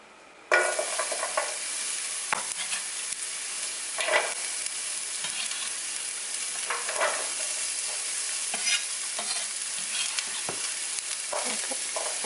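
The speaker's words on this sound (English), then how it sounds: "And we're just going to stir them so it's a little brown" Diced onion hits heated oil and sizzles loudly and evenly, with scraping stir strokes recurring throughout; no voices are present.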